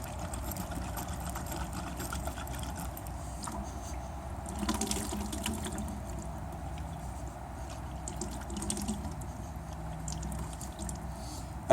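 Water pours and splashes out of a car heater core being flushed with a garden hose, a continuous faint liquid trickle with a brief stronger gush midway, heard alone.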